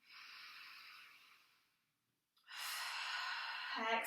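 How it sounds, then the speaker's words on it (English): Deep breathing during a yoga relaxation flow: a long airy inhale fades into a brief pause, then a strong exhale through the mouth, close and clear. "deep breath in. Exhale"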